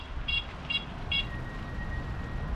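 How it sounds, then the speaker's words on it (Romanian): A car horn gives three short, fairly distant toots in quick succession on a city street during urban downhill riding, then a faint lingering tone over low traffic rumble. "Claxon."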